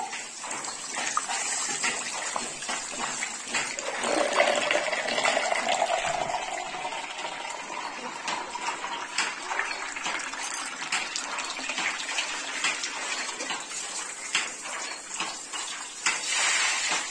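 Water runs steadily from a tap while someone bathes, a continuous hissing gush with small splashes that lasts the whole stretch. No talk is heard over it.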